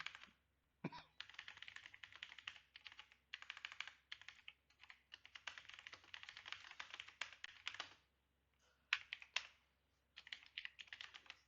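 A C program is typed on a computer keyboard in quick, steady runs of close, crisp key clicks, with a few brief pauses and a louder tap now and then. No voice is heard.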